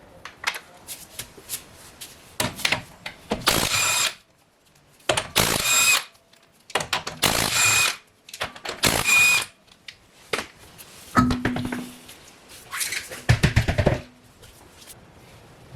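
Power tool with a 19mm socket removing the rear wheel of a 2005 Holden Barina TK, rattling through several loud close bursts of one to two seconds each, separated by short pauses.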